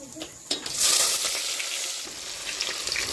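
Garlic, onion and chilli paste hits hot oil with mustard seeds and cumin, bursting into a loud close sizzle that hisses on steadily with faint stirring and crackle.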